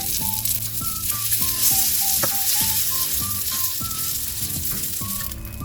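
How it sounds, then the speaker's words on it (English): Moong dal batter sizzles and crackles steadily on the hot greased plates of a waffle maker, a loud continuous frying hiss close by, with a background melody running underneath and no talking. "Now I will start putting in the batter that we just prepared."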